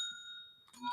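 A bicycle-style bell rings once with a clear metallic ping that hangs and fades, then a second brighter jangle strikes near the end, close and fairly quiet.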